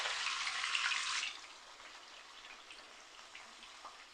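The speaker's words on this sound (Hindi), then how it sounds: "यहाँ पर अब मैं ऑयल में ये गोश्त जो है ये शामिल कर रही हूँ।" Bone-in mutton, about half a kilo, hits hot oil in a pan and sizzles loudly for about a second, then settles into a softer, steady crackle of sautéing that continues alone.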